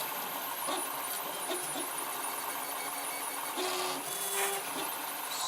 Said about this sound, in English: especially when you're printing blue PLA onto blue painter's tape